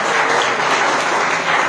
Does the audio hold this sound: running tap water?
no